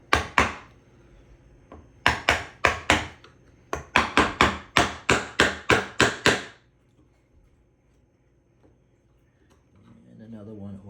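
A chisel driven by mallet blows to carve out a half-lap joint in wood, sharp loud strikes in quick bursts of several hits, then quiet with faint handling noise.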